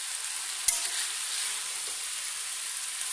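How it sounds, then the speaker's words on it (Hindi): Vegetables frying in a pan, a steady broadband sizzle holding evenly throughout with one brief stir or clink near the start. "देखिए आप सब्जी कितनी ज़्यादा भुनी थी"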